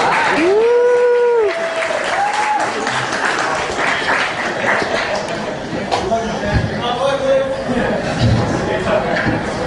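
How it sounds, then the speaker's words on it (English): Audience applause as a comedian takes the stage at a stand-up comedy show, steady dense clapping from a crowd throughout, with a voice briefly talking and a few whoops over it early on. "Alright, let's get a little bit of applause."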